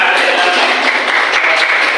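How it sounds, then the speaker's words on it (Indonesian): A classroom of students applauding, a dense, continuous patter of clapping heard up close for a couple of seconds. "Tepuk tangan."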